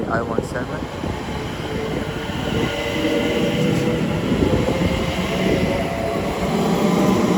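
A passenger train rumbles and pulls away from a platform at Watford Junction on the West Coast Main Line, its steady rolling noise building, with a voice speaking over it.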